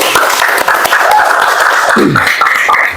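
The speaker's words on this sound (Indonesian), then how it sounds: "Tepuk tangan semuanya." A high school class claps together for group presentations in a religious studies lesson, loud continuous applause filling the room throughout, with a voice briefly audible beneath.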